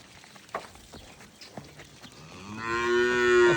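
A Sahiwal cross dairy cow on a farm lets out one long, loud moo that swells near the end, after a few soft knocks and shuffles.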